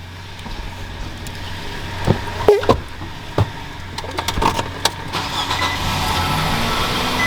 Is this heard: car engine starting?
yes